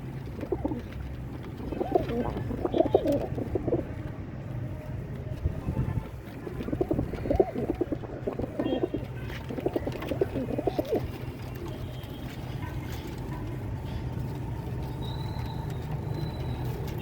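Dub wala fancy pigeons cooing in a loft, soft low repeated coos in two clusters over a constant low background hum, fading to steady noise afterward.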